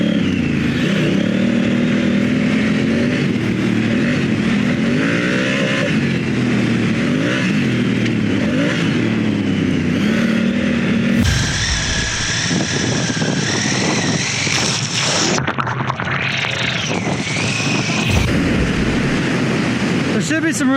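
Adventure motorcycle on Michelin Anakee adventure tires riding fast off-road in Death Valley, a loud engine roaring steadily and revving, shifting in pitch as it speeds up, close and continuous with wind noise.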